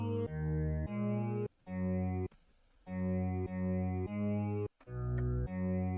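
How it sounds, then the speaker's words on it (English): Stringy synth playing basic chords drenched in effects and distortion, sustained blocks that stop and restart in a steady pattern with a few brief gaps, loud and alone. "it's kind of like a stringy synth, and I added a bunch of effects to it with basic chords."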